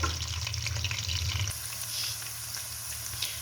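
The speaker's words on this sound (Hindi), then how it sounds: "अब इसके अंदर ये प्याज हम डाल देंगे स्लाइस किए हुए। प्याज को हल्का सा फ्राई करेंगे।" Sliced onions frying in hot oil in a kadai make a steady broadband sizzle with wet crackle, shifting brighter about halfway through as they settle in, with no talking.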